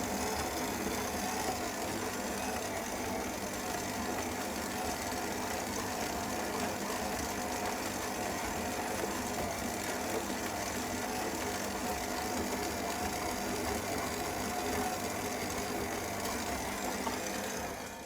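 A stand mixer kneads pizza dough in a bowl, giving a steady, loud motor whir with a rhythmic mechanical rattle that runs unbroken and without speech for the whole stretch.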